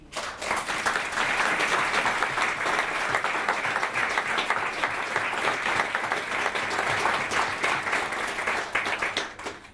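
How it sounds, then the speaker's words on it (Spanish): An audience at a tribute event bursts into sustained applause, with dense, loud, even clapping from many hands that lasts about ten seconds and then stops abruptly. "creo que es digno de un aplauso de todos nosotros"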